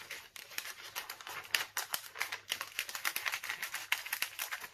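Scissors roughly cutting out small circles of thin iridescent foil at close range: a quick series of crisp snipping and crinkling strokes in an uneven rhythm, with no talking.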